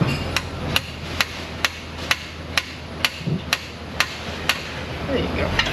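A metal tapping tool knocks about a dozen evenly spaced, sharp taps against the dipstick of a 2003 Chevrolet Tahoe in a garage, each strike crisp and close over a low background hum.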